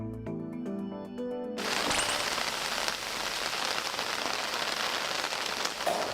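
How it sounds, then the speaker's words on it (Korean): Steady rain begins after a short musical intro, then falls as a dense, even hiss of drops hitting surfaces, close and continuous to the end. "비가 오는 날"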